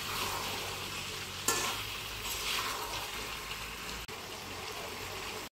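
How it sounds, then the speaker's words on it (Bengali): Chicken curry with potatoes stir-fried in a pan, a steady soft sizzle with occasional stirring scrapes and clinks, fairly quiet and close, no talking. "এই জলে আমি মাংসটা ভালো করে কষে নেব।"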